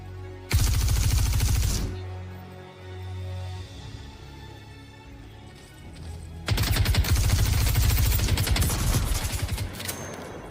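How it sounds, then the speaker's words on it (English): Heavy gunfire in the video game Star Citizen, with a dense burst of rapid shots at the start, a rumbling lull, then another long loud volley near the end; a grenade blast sits somewhere within the barrage. "Yeah, that was a grenade."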